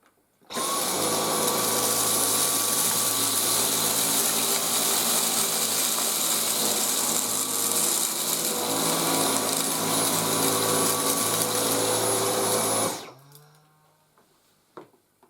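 A Dyson V10 Total Clean cordless vacuum runs in mode 2, a loud steady whine with a high motor tone held for about twelve seconds, then it switches off and winds down, followed by a faint knock.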